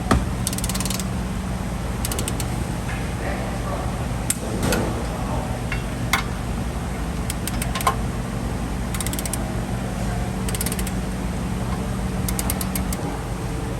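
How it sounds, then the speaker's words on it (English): A torque wrench tightening brake bolts on a Ford Transit during a front brake pad and rotor job, with repeated ratcheting clicks and metallic mechanism sounds over a steady background hum. "So you want to get the torque wrench and set it to 46 foot-pound of torque."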